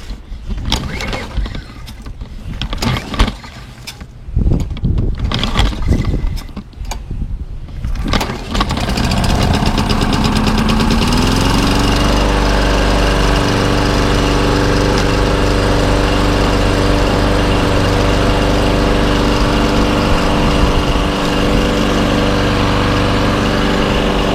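A small engine idles steadily after a cold start with the choke on, running slightly rough and smoking oil until warm; the loud, continuous drone settles into an even hum after some initial handling noise and clattering.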